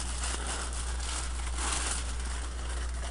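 Steady close-up crinkling and rustling of plastic, continuous and fairly soft, with no voices.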